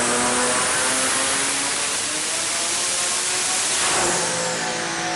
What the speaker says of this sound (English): Got the car on the dyno.